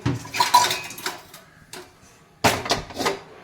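Metal wok (kadai) set down on a kitchen stove, a few clanking metallic knocks and scrapes in two bursts separated by a short pause, close and clear without talk.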